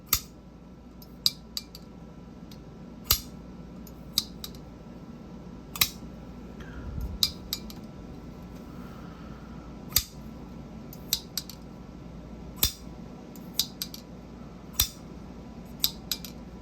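A pocket knife is handled, its blade giving sharp metallic clicks and snaps, scattered irregularly across a quiet room with faint background hiss.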